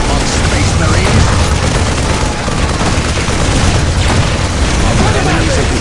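Dense, relentless enemy gunfire pours onto Space Marines in Warhammer 40k: Dawn of War, a loud, continuous roar of shots and blasts with no break, while a voice speaks somewhere in the din.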